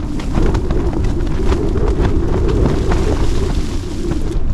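Strong wind buffets a snowy campsite in a continuous loud, low roar, steady and close throughout with no pauses.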